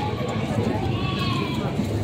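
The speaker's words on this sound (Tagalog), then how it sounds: "Mga pangkatay na kambing." Slaughter goats bleat as they are loaded for transport, with their cries blending into a steady bed of crowd chatter, handling noise and nearby voices.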